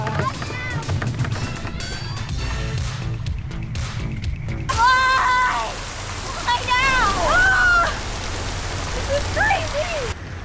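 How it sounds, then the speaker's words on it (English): Steady outdoor rain hisses as an even, close wash, with voices talking over it and a brief shift in texture partway through. "Okay, stop raining."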